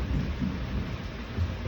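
Thunder rumbling during a storm with rain, a deep, steady roll that carries on throughout and sounds fairly close, with no voices over it.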